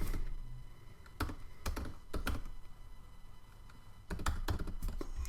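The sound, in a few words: typing credit card details on a computer keyboard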